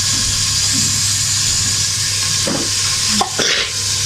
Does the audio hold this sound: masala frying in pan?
yes